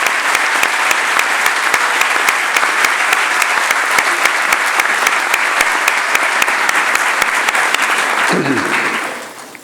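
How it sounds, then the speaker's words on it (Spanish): Audience at a university lecture hall applauding to welcome a lecturer on earthquake effects in Mexico City, sustained loud even clapping that fades out at the end as a brief low sound enters. "Recibamos con un fuerte aplauso al doctor Roberto Meli Piraya."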